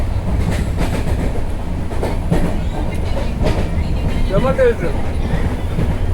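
Moving train on a Kerala route rolling along with steady broadband rumble and faint rhythmic clickety-clack of the wheels, close and continuous, while people talk over it.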